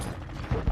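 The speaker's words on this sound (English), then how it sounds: "Reloading." A short mechanical clatter of a weapon being reloaded in Call of Duty: Modern Warfare 2, quiet metallic clicks ending in a firmer clack.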